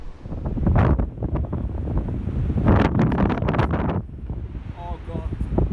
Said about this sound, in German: Hat man das Gefühl, der Wind bläst einem weg.